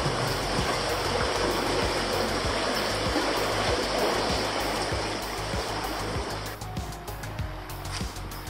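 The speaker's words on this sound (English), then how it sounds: "The water is moving pretty fast and it is really high compared to when we fished here before." Fast, high water on the Bow River in Alberta rushes in a continuous broadband roar, loud and close, easing slightly toward the end with a few faint ticking sounds, no talk.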